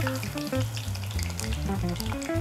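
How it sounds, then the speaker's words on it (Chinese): Shrimp deep-frying in hot oil until golden for a dragon boat sushi dish, a dense steady sizzle and bubbling, close and continuous, with tonal music playing underneath. "然后基本上虾子呢，因为它很容易熟，所以金黄色就可以了"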